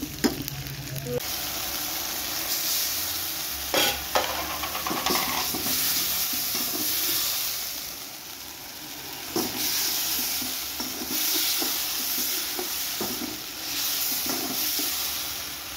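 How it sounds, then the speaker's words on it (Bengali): Fried eggs cooked with spices in a pan, a continuous close sizzle and frying crackle broken by scraping stirring strokes and occasional clatter throughout. "এখন এই যে মশলাপাতি দিয়ে মোটামুটি ডিমটাকে রান্না করে দিব সুন্দর করে"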